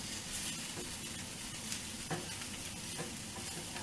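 Food frying in butter in a hot pan gives a steady, even sizzle that runs throughout, with a few faint stirring scrapes and no voices.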